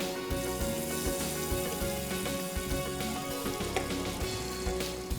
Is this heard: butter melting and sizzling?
yes